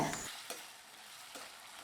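Tomatoes, onions and garlic sizzle quietly in a hot pan, with a few soft scrapes of stirring breaking through the steady frying hiss.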